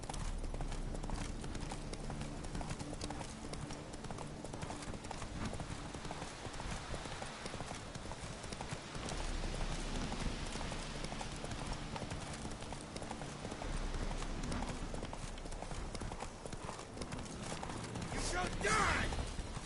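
Roach, the horse in The Witcher 3, gallops with a continuous rapid clip-clop of hooves, loud and close, over a low in-game rumble with occasional voices.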